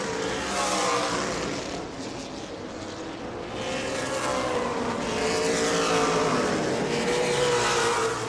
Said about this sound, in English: Whole bunch of cars out there on the Speedway.